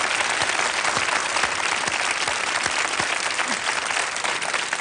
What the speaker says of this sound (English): we are going to applaud that